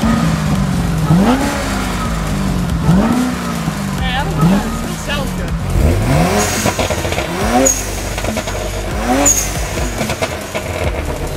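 Car revving repeatedly at a car meet, engine notes climbing and falling in a rough rhythm with crackling exhaust pops, close and loud, with voices talking over it.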